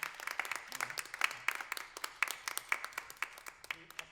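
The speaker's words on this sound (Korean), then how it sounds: "박수." Audience applauding after a scholarship certificate presentation at a university chapel anniversary service in Seoul, with steady clapping throughout and no voice over it.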